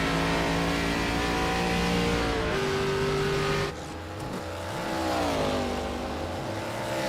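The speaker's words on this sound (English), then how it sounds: "Hop inside the race car. Let's watch this. Watch this from his perspective." An onboard race car engine at Iowa Speedway revs hard and loud, its tone rising and falling through gear changes as it drives close in the cockpit with no talk.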